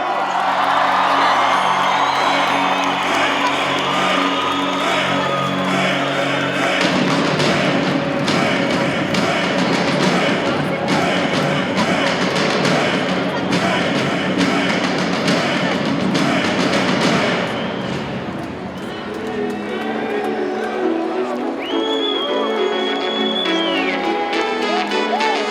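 A hall audience at the Turkvision 2013 song contest cheers and applauds loudly as Azerbaijan is announced the winner, a dense roar mixed with music and whoops that fades after about seventeen seconds.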